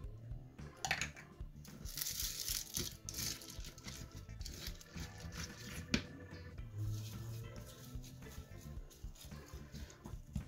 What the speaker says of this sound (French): Je viens maintenant ajouter les billes de polystyrène d'un côté. Et de l'autre, je viens ajouter les fameuses perles.